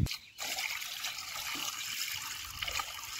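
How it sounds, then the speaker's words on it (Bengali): Pieces of fish rinsed under running water, a continuous close splash and trickle that briefly pauses near the start, with no speech. "এবার আমি ভালো করে জল দিয়ে আবারও 2 থেকে 3 বার মাছটা ধুয়ে নেব।"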